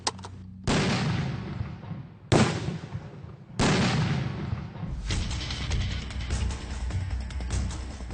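Indonesian army engineers set off explosive charges in a demolition drill: three loud, sharp blasts a second or two apart, then a sustained rolling rumble that carries on afterward.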